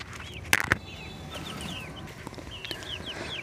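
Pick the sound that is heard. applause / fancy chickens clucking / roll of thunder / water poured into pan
fancy chickens clucking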